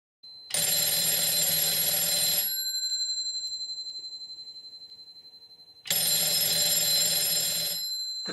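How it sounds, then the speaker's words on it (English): An old telephone bell at the called party's end of a three-slot payphone call rings in two loud, sustained electric bursts with a pause between, the bell fading slowly after the first ring. "At the called party end, the telephone is ringing."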